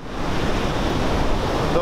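Sea waves wash onto the coast in India, a loud, continuous roar of surf close by with some wind noise, no voices.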